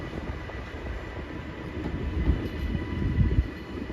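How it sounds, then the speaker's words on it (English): A Northern electric passenger train, unit 331023, on the Manchester Airport to Blackpool North service at Wigan North Western station gives a steady, close rumble of wheels and motors that grows slightly louder toward the end. "the 12:05 Northern service to Blackpool North from Manchester Airport, 331023"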